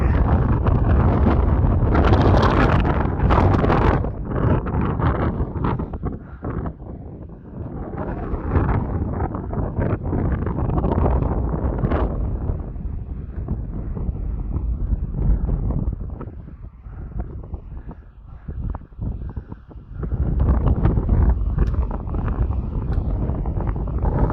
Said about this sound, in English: that wind is so cold